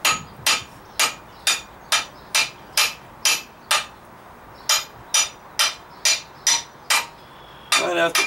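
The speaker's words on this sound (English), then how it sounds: "Might have to tap that off or pry it off." A hammer taps at the front brake housing of a 2006 Chevrolet Trailblazer to free it from the rotor, about fifteen sharp, evenly spaced metallic strikes close up, a brief pause midway, then faint talk at the end.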